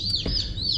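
Young chicks of a heritage meat bird breed, not crossbred, give high, thin cheeps. There are a few brief peeps over a low background rumble.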